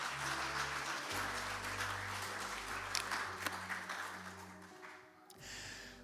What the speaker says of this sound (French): On peut applaudir Dieu qui nous donne sa parole ce matin